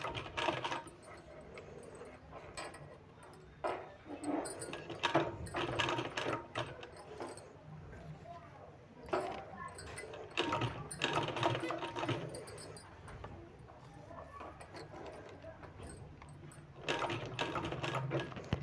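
A sewing machine stitches a paper sleeve pattern down its centre, a soft rapid chatter coming in uneven runs with brief pauses, faint and close.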